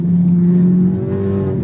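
A modified Honda Civic Type R FK8 with a turbo-back exhaust drones loudly and close in a steady engine tone during a gear change, the pitch easing briefly mid-shift before settling again.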